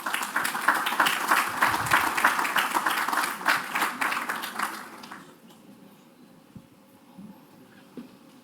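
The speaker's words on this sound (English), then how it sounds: "Please, can you give him applause?" Loud, dense applause from an audience at the World Engineering Day 2024 main event, holding steady for about five seconds before dying away to a quiet room with a few scattered claps.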